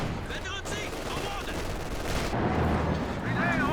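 Battle noise from the Company of Heroes 2 strategy game as a Panzer IV and a Sherman tank trade fire: a steady rumble of distant gunfire and explosions goes on without a break, and a voice comments over it.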